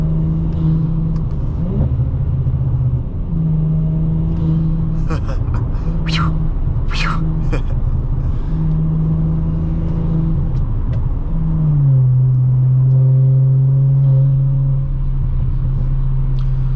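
A 2018 Audi S4 3.0T engine hums in a steady low drone, then its pitch rises and holds as it accelerates, heard from inside the car.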